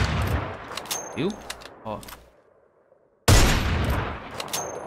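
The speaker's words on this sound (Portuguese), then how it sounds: "Um dos sons que eu notei que tá bem diferente é o da AW" AW sniper rifle in the mobile shooter Free Fire MAX, a couple of sharp shots with short ringing tails, separated by a silent gap, with someone talking briefly between them.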